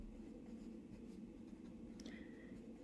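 A pencil scratches steadily across paper in a quiet room, soft and close, with a brief sharper stroke near the end.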